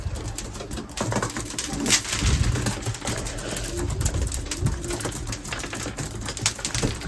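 Racing pigeons coo steadily inside a loft, a soft continuous murmur of many birds close by with occasional wing flutters and shuffling, no talk over it.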